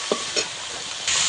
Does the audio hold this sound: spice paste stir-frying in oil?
yes